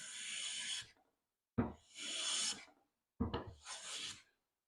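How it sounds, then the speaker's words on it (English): Three hand plane strokes shave a wooden board flat, each a close, rasping swish about a second long with short pauses between, no voices over it. "we'll just take a few plain shavings off in the middle"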